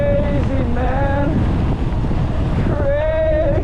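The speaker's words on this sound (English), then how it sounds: "And it's slightly windy if you can't tell." Steady wind buffets the microphone in a loud, continuous rush, with a faint tonal sound rising and falling through it, outdoors near Wellington, New Zealand.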